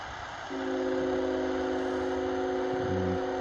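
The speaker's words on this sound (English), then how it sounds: "Train coming by through the town here." A low steady rumble with a long sustained horn-like tone over constant hiss, a train passing through a town in Northern Colorado at a distance.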